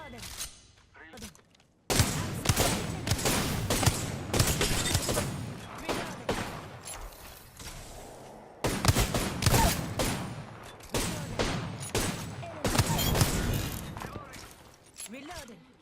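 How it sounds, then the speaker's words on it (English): Apex Legends gunfire comes in loud, dense bursts of rapid shots with brief lulls between volleys, and voices speak over parts of the firing. "I'm getting shot at."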